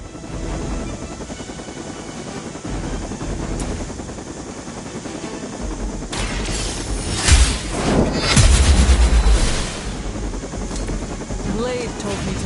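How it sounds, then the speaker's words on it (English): Helicopter from the Marvel Midnight Suns campaign, its rotor drone running steadily under game dialogue, then swelling with louder bursts of gunfire and impacts in the middle before settling back to a continuous hum. "The helicopter is back in action."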